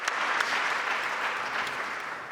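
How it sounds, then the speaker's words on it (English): An audience at a talk on free education and independent schools applauds steadily, a dense even wash of clapping that holds at a constant level throughout with no voices over it. "we give him a big round of applause"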